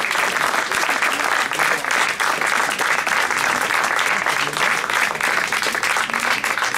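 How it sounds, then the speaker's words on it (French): A crowd at a jazz festival applauds a jazz trio after their concert. The clapping is steady and dense, with no break, and continues at an even level throughout. "Bravo, on peut les applaudir vraiment."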